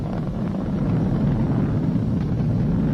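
SpaceX Falcon 9 rocket engines throttled down during a crewed launch toward the ISS, a loud, steady, deep roar with rough low rumble and no voices.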